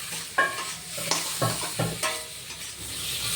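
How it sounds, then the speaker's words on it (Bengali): Fish being sautéed in spice paste in a pan, a soft continuous sizzle broken by several spatula scrapes and stirring knocks, close and moderately quiet. "এবার মাছটা দিয়ে আর একটুখানি কষাবো"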